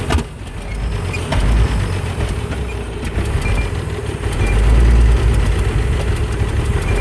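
An old engine with a hand throttle and distributor advance idles while it warms up. It makes a steady, loud, close rumbling chug with slight swells in level and no talking.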